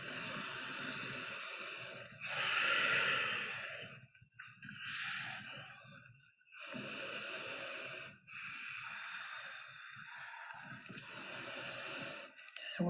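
Deep, audible breaths during a seated chair yoga practice: long, airy inhales and exhales in slow cycles, close and breathy, with brief quiet gaps between them.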